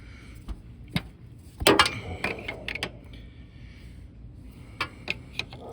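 A 17 mm open-end wrench works at the final drive plug of a Honda GL1500 Goldwing Interstate, giving scattered metallic clicks and ratcheting clanks, with a louder cluster of knocks early on and sparse ticks after, close and without speech.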